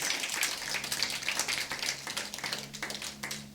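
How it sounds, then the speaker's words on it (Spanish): A church congregation applauds in a sustained burst of clapping, dense and steady, with a faint low musical hum underneath throughout. "Dale un aplauso fuerte al Señor."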